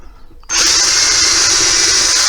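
A power drill starts abruptly after half a second of quiet and then bores steadily through wood with a loud, continuous high whine, close by and with no talking.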